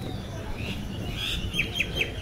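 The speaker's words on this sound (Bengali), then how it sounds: "দেখো কতগুলো পায়রা।" Pigeons gather to be fed by hand outdoors, with a few short, high bird chirps repeating near the end over a steady rumbling background.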